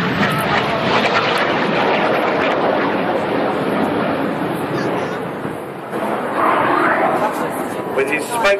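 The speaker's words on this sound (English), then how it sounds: "pitching up now is Red 6, leader of the synchro pair, Flight Lieutenant James McMillan." A Red Arrows jet pitches up during the team's display at the Farnborough Airshow, giving a loud, continuous jet roar that swells and fades. An announcer talks over it.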